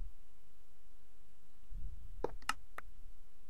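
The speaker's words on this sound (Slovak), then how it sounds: "Počúvajte len ten úžasný zvuk dispenzeru." Minecraft dispenser sound triggered by a Bukkit/Spigot server plugin: three short, sharp clicks in quick succession, fairly faint over a quiet low hum, with no other sounds.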